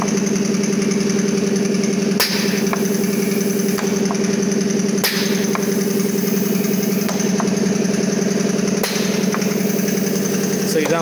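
An air compressor drones loudly and continuously in a pneumatic circuit setup, while a pressure-relief valve lets out sharp hissing bursts every couple of seconds.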